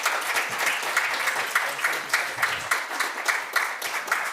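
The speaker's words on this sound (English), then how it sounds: "So give them all a big round of applause." An audience at the Australian Mental Health Prize 2025 awards applauds, a dense, steady wash of many hands clapping at close range, loud and sustained with no voices on top.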